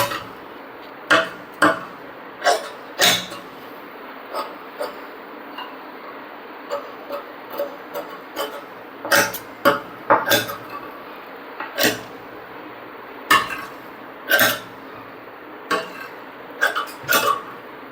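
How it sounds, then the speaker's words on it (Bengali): Scissors cut fabric for a kurti neck strip in a series of sharp, separate snips and clicks, spaced irregularly across a quiet room, close and fairly loud, with no voices. "তো এই কাপড়টা দিয়ে আমরা গলার কাপড়টা এটা কেটে নেব গলার পট্টির কাপড়টা এটা"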